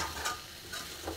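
Food frying and being stirred in a pan over low heat, with a soft steady sizzle and a few brief scraping strokes of the spoon, quiet and close.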